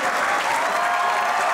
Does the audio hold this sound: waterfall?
no